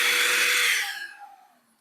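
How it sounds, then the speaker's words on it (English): A DeWalt 20V cordless handheld vacuum (DCV501HB) whines at a loud, steady pitch, then spins down and fades out over about a second. "Now I'm going to demonstrate how powerful this vacuum is."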